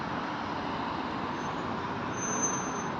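Steady roadway rumble on a highway as a bus approaches, a continuous broadband engine and tyre drone at moderate level with a short high hiss near the end like an air brake.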